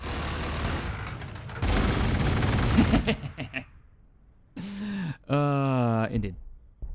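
Gunfire in Warhammer 40,000: Gladius, a loud dense burst of shots and blasts over a few seconds, followed by quieter gaps and tonal game effects, with a voice speaking briefly in between.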